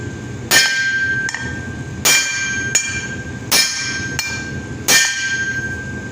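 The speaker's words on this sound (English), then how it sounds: "we're punching a hole, or punching the end cap out of one end to get it all the way out" A hammer drives a socket against the end cap of a Dodge Cummins driveshaft to punch it out, five loud ringing metallic strikes spaced about a second apart, each with a lingering steel ring, close up.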